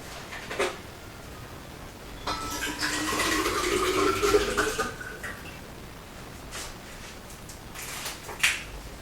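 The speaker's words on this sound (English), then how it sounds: "right now I'm refilling this big old water bottle because hydration is important" Water pouring into a big water bottle during a refill, a faint running and filling gush that swells in the middle, with a few small clicks and taps before and after.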